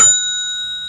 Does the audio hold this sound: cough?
no